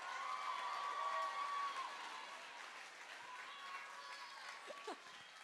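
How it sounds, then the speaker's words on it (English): A crowd at a school battle of the bands claps and cheers, a moderately distant wash of applause with shouts and whoops rising above it, fading slightly as it goes on. "Can we please give another round of applause for the performers?"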